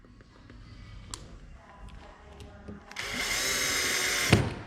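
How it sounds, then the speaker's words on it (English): A power drill drives a screw into a suspended track light fixture in a sun room: a few light taps and handling knocks, then a loud sustained whine for about a second and a half, ending in a sharp thud. "we're committing to it by screwing this in"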